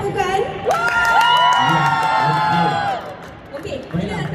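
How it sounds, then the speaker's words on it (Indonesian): An audience at a film premiere in a cinema cheers and whoops loudly, with sustained high shouts from many voices and clapping mixed in, then settles toward talk. "Kita nak dengar sorakan dan tepukan."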